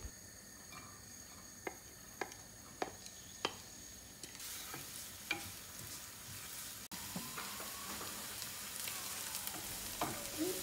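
Onion and garlic frying in oil in a non-stick pan: a few sharp knocks at first, then a sudden, steady, loud sizzle that holds close and continuous, with no talk.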